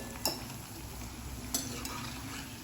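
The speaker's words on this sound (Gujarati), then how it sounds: "હવે એકદમ લાલ થાય ત્યાં સુધી આ પૂરી આપણે તળવાની છે" Quiet, steady bubbling sizzle of jowar, spinach and onion puri deep-frying in oil over low heat, with two sharp metallic taps from a utensil against the pan.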